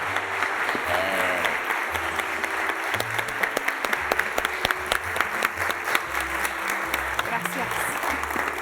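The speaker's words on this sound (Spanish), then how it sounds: "Démosle la bienvenida con un fuerte aplauso" An audience bursts into steady, dense clapping that carries the whole stretch, welcoming a guest to a stage event, with a few louder sharp claps standing out and some faint voices mixed in.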